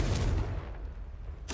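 Confringo fire spell blast in Hogwarts Legacy, a heavy booming burst that fades into a low rumble and ends with a brief bright crack.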